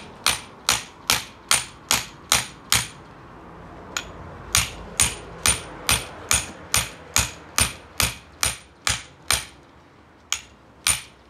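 A small hammer strikes sharply and repeatedly during a pig butchering, around twenty loud, evenly paced blows with a brief pause partway through.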